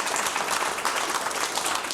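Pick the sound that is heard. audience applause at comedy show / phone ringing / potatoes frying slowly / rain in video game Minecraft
audience applause at comedy show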